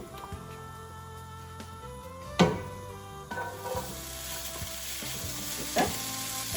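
Vegetables stir-frying in oil in a pan for egg fried rice, a steady close sizzle with scraping stirs of a utensil and a couple of sharp metallic knocks against the pan.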